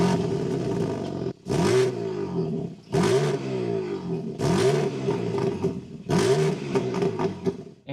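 A car engine fires up and runs with repeated loud revving bursts rising and falling about four times, the idle dropping back between each blip, on a car fitted with carbon fiber accents.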